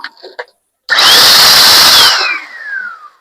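A repaired high-wattage power tool switches on with a loud, close whine for about a second, then spins down with a falling tone, after a few short handling sounds.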